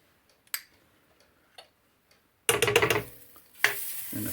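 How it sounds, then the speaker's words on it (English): Butter melting in a hot crepe pan for crepes Suzette starts sizzling suddenly after a few faint clicks, a loud bubbling crackle that eases off, then picks up again into a steady sizzle. "I melt some of the butter"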